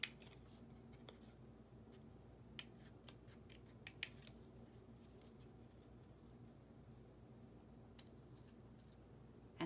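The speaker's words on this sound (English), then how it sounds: "we want to keep these leaves and cut out the Monstera leaves." Scissors snip Monstera leaves out of paper for a tropical craft: quiet, close cuts come in scattered single clicks and short runs over a faint room hush.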